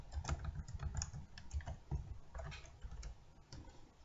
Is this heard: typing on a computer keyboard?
yes